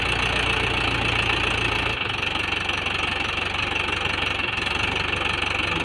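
A Mahindra 575 DI XP tractor tries to pull a trolley loaded with wood, its diesel engine knocking in a loud, steady, close rhythm that never lets up.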